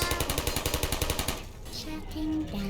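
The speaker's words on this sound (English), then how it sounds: "Not a fan of all of the firing sounds that I'm hearing right now." Sentry turrets in the video game Portal fire a rapid, loud rattling burst of roughly a dozen evenly spaced shots, which stops abruptly and leaves a short stretch of game ambience with some electronic tones.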